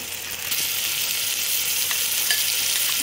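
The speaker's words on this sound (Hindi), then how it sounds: "गंदम का दलिया भी हम इसमें ऐड कर रहे हैं और इन सारी चीज़ों को हम अच्छी तरह से भून लेंगे" Chana dal and wheat porridge dry-roasting in a pan for haleem give off a steady, even sizzle with soft scraping from stirring, close and continuous throughout.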